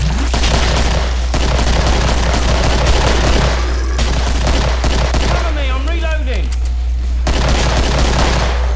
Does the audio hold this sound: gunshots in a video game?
yes